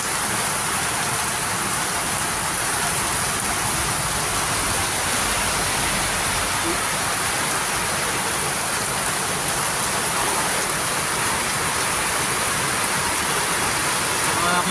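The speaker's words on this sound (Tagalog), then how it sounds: "Paglakas ng ulan na ba?" Steady, dense hiss of heavy rain pouring down, constant and enveloping across the whole stretch, with no breaks.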